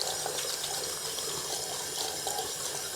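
Tap water runs steadily into a sink while salt scrub is worked by hand, making a bright, continuous hiss and splash at close range with no talking.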